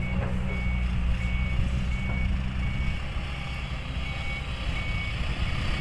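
A red Mega truck backs up a long way, its reversing alarm beeping steadily over a loud, constant engine rumble, with no voices.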